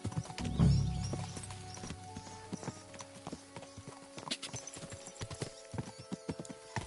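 Horse hooves clip-clop at a steady walking rhythm in the video game Kingdom Come: Deliverance 2, a brief snort or whinny at the start, then even rhythmic hoofbeats over faint ambient background.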